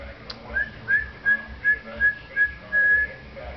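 An 11-month-old baby makes a series of short, thin, breathy whistles, about seven in a row, faint and close, with a longer final note.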